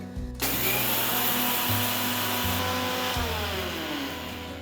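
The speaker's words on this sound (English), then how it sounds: "transfer the cool roasted poha into a mixer jar and grind it to a nice fine powder" Mixer grinder motor whirring loudly and steadily as roasted poha is ground into a fine powder in the jar, starting abruptly and running continuously with a slight drop in pitch.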